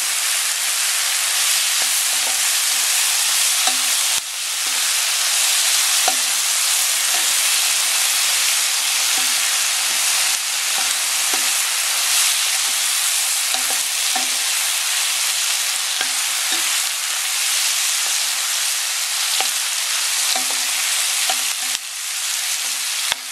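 Beef for stroganoff sizzles loudly and steadily in a hot pan, with the soft scrape and clack of a spoon stirring it every second or so.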